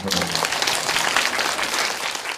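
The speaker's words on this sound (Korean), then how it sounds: "박수 쳐도 돼, 이 대목을." Lecture audience breaks into applause, a brief dense wash of many hands clapping close and fairly loud, with a voice heard faintly at the start.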